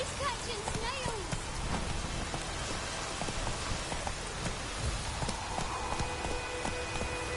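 The horse Roach gallops in The Witcher 3, heard as continuous hoofbeats against a dense rain-like background with faint voices underneath.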